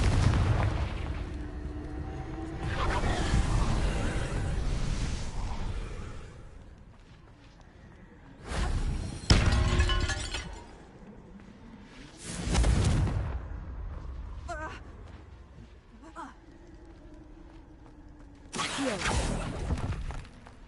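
Confringo fire spell blasts in the Hogwarts Legacy video game: several loud, broad booming explosions with crackling fiery tails, spaced a few seconds apart over a steady rumbling game background.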